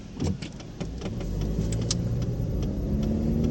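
A car rolls over the cobblestone streets of Lviv, its steady engine hum and road rumble building gradually, with sharp rattles and knocks from the rough paving breaking through and no voices.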